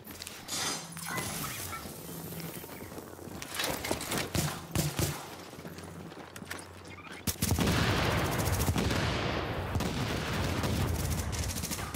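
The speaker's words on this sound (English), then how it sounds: "You're all shooting me from behind." Video game gunfire: scattered shots and short bursts at moderate distance, then a dense continuous volley of rapid fire from about halfway on.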